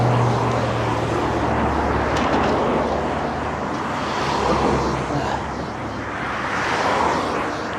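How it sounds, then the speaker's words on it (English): Steady broadband roar of vehicles passing on a hill road, continuous and fairly loud, swelling and fading slightly as traffic whirs by. "Always a lot of traffic on this hill. You hear it whirring by."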